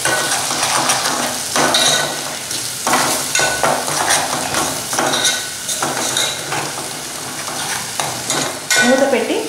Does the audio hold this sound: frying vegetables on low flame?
yes